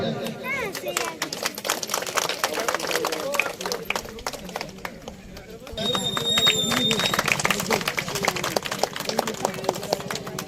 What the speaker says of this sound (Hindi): करताली जणेबे